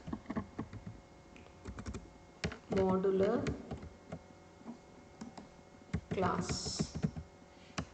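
Typing on a computer keyboard, bursts of quick sharp key clicks in irregular runs, close and fairly quiet, broken by brief spoken words from a nearby voice.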